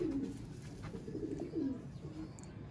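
Soft, low coos of Sialkoti pigeons, a male and female pair, repeating in short rolling phrases, close by, over a steady background hum.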